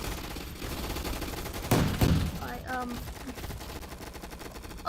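Rapid gunfire bursts in a video game arena shooter, a dense crackling volley peaking near the middle, with voices talking over the action and game sounds around it.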